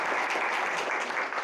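Audience applause at a tech talk on Node.js, a steady dense wash of many hands clapping together, fairly close and even throughout with no talk over it.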